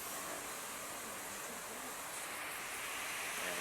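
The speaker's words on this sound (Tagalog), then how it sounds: "Lakas ng hangin, ang lakas ng alon, mga alon" Strong waves and gusting wind behind a house during heavy rain form a steady, loud, broadband roar that holds unbroken throughout, with no talking.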